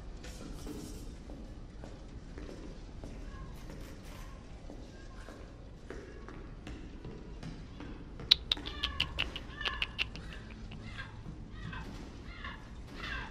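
A pet cat meows repeatedly and insistently, wanting to be let outside, its calls rising over a steady indoor background hum, with a faint voice underneath.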